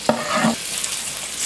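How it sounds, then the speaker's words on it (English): Potatoes hit hot oil or bacon grease in a frying pan, giving a brief clatter followed by a loud, steady sizzle up close. "Hear that sizzle."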